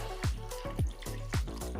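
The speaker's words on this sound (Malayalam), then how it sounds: "ഇനി നമുക്ക് ഒരു ഗ്ലാസ് വെള്ളം ഒഴിക്കാം" Water poured from a glass or container, gurgling in a few regular glugs about half a second apart, close and fairly soft.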